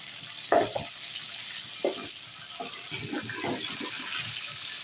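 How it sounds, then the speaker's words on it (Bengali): Chicken frying in a pan on a gas stove, with a soft, continuous sizzle and faint hiss, broken by a few short louder crackles and spatters. "আমার চিকেন ভাজি হয়ে গেছে, এখন আমি নামিয়ে ফেলতেছি।"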